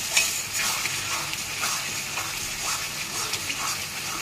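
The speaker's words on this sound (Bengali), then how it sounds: "এবারে এইভাবে কষিয়ে নেব ভালো করে।" Yogurt-marinated mutton fries and sizzles in a pan while being stirred, a steady hiss with scraping strokes throughout, no talking.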